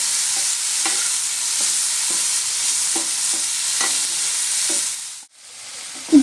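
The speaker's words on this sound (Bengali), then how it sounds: "এবার আমি এটা খুব ভালো করে নেড়ে চেড়ে কষিয়ে নেব, যাতে কাঁচা আদার গন্ধ না থাকে।" Green chili-ginger paste and cauliflower filling for kochuri fry in a pan with a steady, close sizzle, while a spoon scrapes and stirs at a regular pace. The sizzle cuts out briefly near the end. No one speaks.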